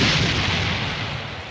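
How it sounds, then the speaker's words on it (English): Explosion sound effect on a live stream: a dense, continuous rumbling roar of booms and blasts, loud and steady throughout with no one speaking. "He got explosions and everything."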